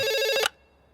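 A telephone rings in a short loud electronic trill that cuts off abruptly halfway through, leaving near silence afterward.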